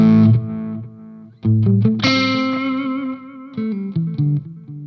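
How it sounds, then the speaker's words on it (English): An electric guitar plays through a Mooer D7 delay pedal in analog mode: a few sustained, slightly driven notes and chords, each trailing soft repeating echoes that fade between phrases. "Let's put the delay on"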